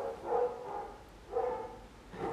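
A few faint, distant barks from dogs kept in front yards in Hungary, about three separated woofs spaced roughly a second apart with quiet between.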